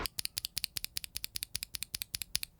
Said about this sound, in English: And here's the sound of a U4T with the same keycap.